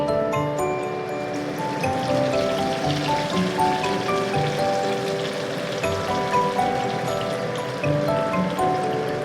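Spices tipped into hot oil for bhapa paneer sizzle and crackle steadily, a dense close hiss with scattered pops running throughout with no pause.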